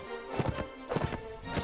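Horse hooves clop in the medieval combat game Mount and Blade: Warband, sounding as several uneven hoofbeats in a loose walking rhythm with a faint whinny-like tone, moderately close amid game ambience.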